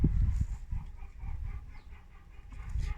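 Araucana chickens, a South American breed, cluck in a close group, with a dense run of low, rough calls that continues through the three seconds with little pause.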